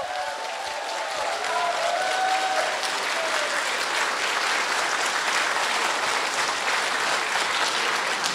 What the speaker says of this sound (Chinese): 让我们用最热情的掌声邀请我们的 Kim Hui。